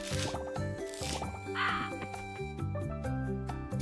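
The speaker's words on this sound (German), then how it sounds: "Diese Krähen." Crows cawing in the farming video game Coral Island, a few brief harsh caws cutting through steady upbeat game music with plinking melodic notes.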